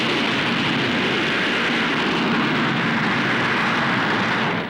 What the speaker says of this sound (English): is a delta wing research machine powered by 5 Rolls-Royce jets